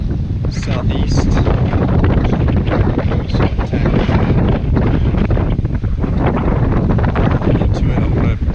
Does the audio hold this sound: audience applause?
no